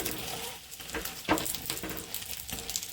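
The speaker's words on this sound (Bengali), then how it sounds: "ডিমটা আলাদা করে ফ্রাই করে নিচ্ছি" Egg for a Kolkata-style egg roll frying in a pan, giving a steady close sizzle with a brief louder crackle in the middle and light stirring, no voices.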